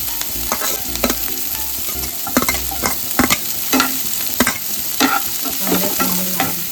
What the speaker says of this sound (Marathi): कांदा लाल होईपर्यंत चांगला भाजायचा आहे